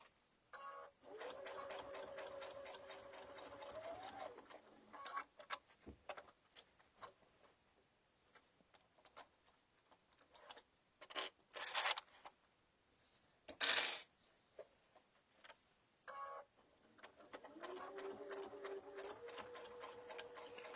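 Electric sewing machine stitching a fabric pumpkin bag at home, running in steady whirring bursts that stop and restart, with small clicks and taps in the pauses, close up and fairly quiet, no talk.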